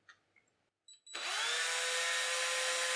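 After a few faint taps and a short pause, a small 1.5mm drill bit whirs up sharply and runs at a steady high-pitched whine up close, drilling screw holes in a bone guitar nut.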